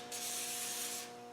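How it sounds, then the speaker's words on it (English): Rustproofing spray hisses steadily from an aerosol onto the underside of a Land Rover 130, coating steering shaft joints and adjusters; one close continuous burst with a brief pause near the end. "Just spray it on, man, because it'll make a film and it lubricates as well."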